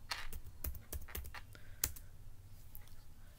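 A computer keyboard clacks in a quick burst of keystrokes, then a few scattered taps, close and fairly quiet, with no voices.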